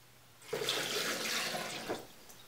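Water pours steadily into a container of almonds and coconut for homemade nut milk, a close, loud rushing stream lasting about a second and a half before cutting off.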